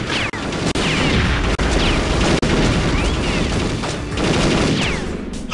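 Dense, continuous gunfire from a Perfect Dark shootout, a loud sustained barrage with scattered sharp bangs and booms layered over game music and effects, running steadily through the whole stretch.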